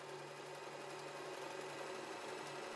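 A W6 N 1800 sewing machine stitches a seam through fabric backed with embroidery stabilizer, running as a quiet, steady, even mechanical hum with no pauses.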